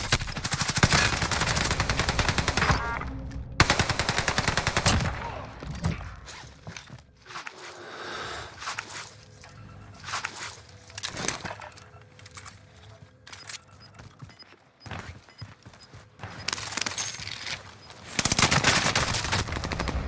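Call of Duty Vanguard Warzone gunfire on Rebirth Island with a Cooper Carbine in play, loud close bursts of rapid automatic fire broken by quieter mechanical clicks and handling sounds, then a final heavy burst.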